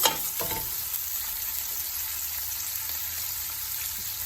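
Onions and green chillies frying in a pan for a fenugreek leaf curry give a steady, even hiss of sizzling oil, with a couple of faint stirring clacks near the start.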